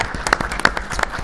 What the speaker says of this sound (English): If we could please give Tony a big round of applause.